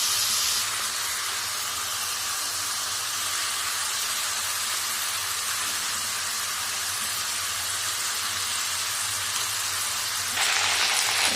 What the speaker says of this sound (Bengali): আর এই তেলটার মধ্যে আমি এখন ফোড়ন দিয়ে দেবো